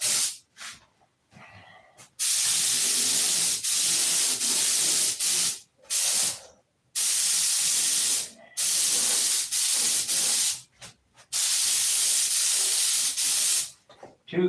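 Spray gun hisses in long, loud bursts while applying paint coats to an airplane, with short silent gaps between passes in an irregular on-off rhythm.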